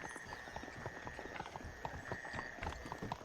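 Horse hooves clip-clop steadily in a Western video game, a brisk, close run of hoofbeats with a faint whinny and a soft background hum, no talk.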